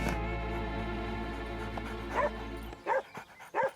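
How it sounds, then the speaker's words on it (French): A cartoon dog in an animated Fireman Sam episode gives three short, sharp yipping barks in quick succession, following a sustained droning musical tone that cuts off. "arrête d'aboyer"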